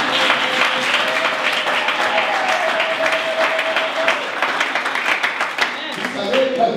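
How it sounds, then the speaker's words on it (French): A church seminar audience applauds the women, sustained loud clapping from a large crowd filling the room steadily from start to finish, with some voices mixed in. "Est-ce qu'on peut acclamer les femmes?"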